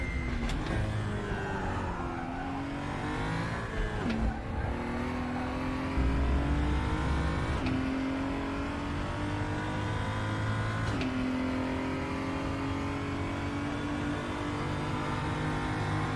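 BMW race car engine on the Nordschleife in the RaceRoom racing game, a constant loud drone with the pitch climbing through the gears and brief drops at each shift.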